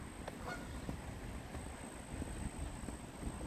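Geese honk repeatedly in short calls over a steady outdoor rumble in a Washington, D.C. park, with a faint high whine running throughout.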